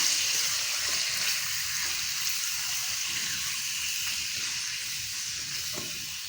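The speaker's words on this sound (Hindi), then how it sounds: "इसका पानी फ्राई करना बहुत ज़रूरी है।" Boneless chicken cubes fry in hot ghee with a steady, close sizzle that slowly softens as the moisture cooks off.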